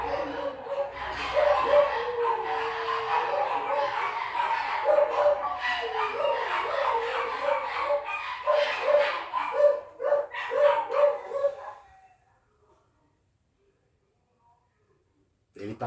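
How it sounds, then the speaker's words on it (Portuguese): Several dogs barking outdoors in a residential neighborhood, a steady run of repeated barks and yips at moderate distance, fading out into near silence. "Os cachorros já deram alerta."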